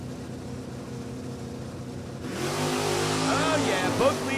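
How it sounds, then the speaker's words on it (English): Drag race cars launching at an NHRA event, a big block 427 machine and a 1969 Camaro small block 350 stock automatic, as engines surge from a distant idle into a loud, rising revving roar. "Little small block 350 car, and it's going to be the 69 Camaro. Double A stock automatic of Gene Jordan. Big block 427 machine"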